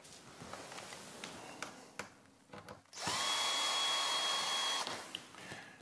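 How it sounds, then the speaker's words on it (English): A power screwdriver whirs steadily for a couple of seconds while backing screws out of a Fhiaba refrigerator's side profile trim, with brief clicks and handling knocks around it and no talk. "Removing the 5 screws and taking care to make sure the profile trim does not fall to the floor."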